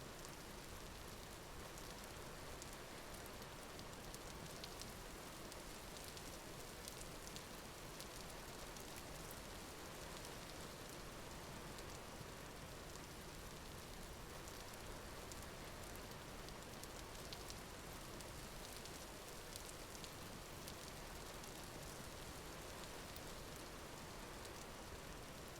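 Rain in the video game Vintage Story falls as a faint, even hiss, a steady wash of drops that holds unchanged from start to finish with no voices over it.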